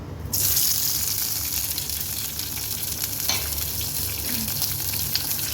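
Finely chopped tomato with cumin frying in a pan for village-style rasam, a steady, close, loud sizzle that runs unbroken throughout.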